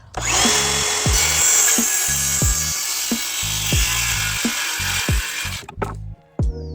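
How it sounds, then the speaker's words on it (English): A power drill whines steadily as it bores a pilot hole through the back of a wooden box, close and loud, with a rhythmic knocking underneath before the motor winds down and stops. "I then used a drill to create a pilot hole through the back"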